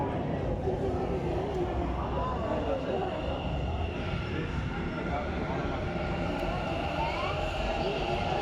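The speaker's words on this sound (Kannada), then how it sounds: "ಟ್ರೈನ್ ಬಂತು, ಈಗ ಟ್ರೈನ್ ಹತ್ಕೊಂಡು ಮೆಜೆಸ್ಟಿಕ್ಕಿಗೆ ಹೋಗ್ಬೇಕು" A Bangalore Namma Metro Green Line train arrives at RV Road station with a steady, broad rumble and whine that fills the platform, and murmuring voices run underneath.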